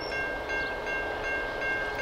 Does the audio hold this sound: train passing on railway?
yes